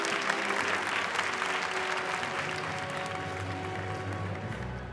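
Audience applause at a Miss Academia gala evening: a dense, sustained round of clapping from a large crowd, steady and full, slowly easing toward the end.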